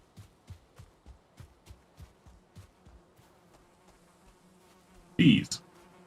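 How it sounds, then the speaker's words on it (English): Bees buzz in the fantasy survival game Valheim: a string of short, regular buzzing pulses repeat, fading slightly, followed by a sharper louder burst near the end. "Bees."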